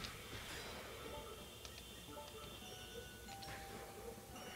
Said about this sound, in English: Oh, ding dong.